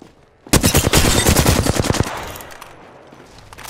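Rapid automatic gunfire from the video game Apex Legends bursts in loudly after a brief pause, a dense string of shots for about a second and a half that tails off into a fading rumble.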